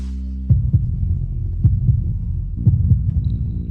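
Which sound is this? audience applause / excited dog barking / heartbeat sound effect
heartbeat sound effect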